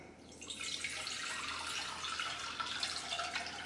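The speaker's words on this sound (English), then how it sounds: "I'm gonna put 1 liter of water into this saucepan and bring that up to a simmer." One liter of water pours steadily into a saucepan in a home kitchen, a continuous close splashing stream that slowly deepens in tone as the pan fills, with no talking over it.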